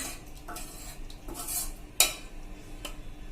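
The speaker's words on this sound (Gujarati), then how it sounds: "તો એના માટે પહેલા આપણે દાળ નાખશું" Dal for Kathiyawadi-style dal pakwan is ladled from a pot into a serving bowl, giving soft scraping and stirring sounds with a sharp metallic clink of the ladle against the vessel midway, close and fairly quiet.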